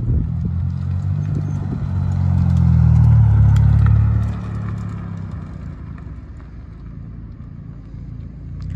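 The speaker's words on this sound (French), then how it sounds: "vous allez voir quand même que le bruit est assez conséquent" A Seat Ibiza FR runs with its engine audible from inside the car, a steady low rumble that swells louder for a few seconds before settling back to a constant drone.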